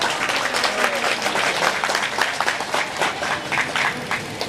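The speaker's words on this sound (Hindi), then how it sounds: "उनके लिए ढेर सारी तालियां।" An indoor audience at a White Cane Safety Day celebration gives loud, steady applause in dense, continuous clapping that fills the room.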